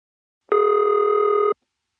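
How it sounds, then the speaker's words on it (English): West Los Angeles ring from an AE step telephone exchange in plant 366: one steady, loud, clean ringing tone lasting about a second, starting and stopping abruptly, with silence on either side. "my favorite ringtone from AE Steps, the West Los Angeles ring."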